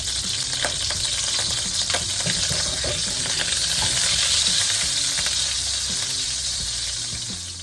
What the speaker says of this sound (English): now what I'm doing is sauteing the meat in the hot oil with the butter